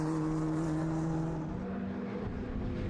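A Formula Ford race car at Silverstone, fitted with a Mountune-rebuilt engine, accelerates hard onto Wellington Straight, its engine a loud, steady, sustained drone with no voices over it.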